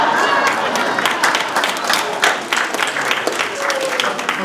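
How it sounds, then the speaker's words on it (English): Steady audience applause at a talent show fills the room after a comedy bit, with dense overlapping claps and some crowd noise sustained loudly throughout. "We appreciate the applause."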